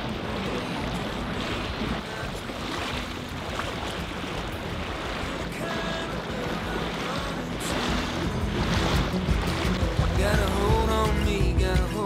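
A small dinghy moves across the water with an outboard motor humming beneath splashing waves and gusty wind noise, and the engine grows a little louder toward the end.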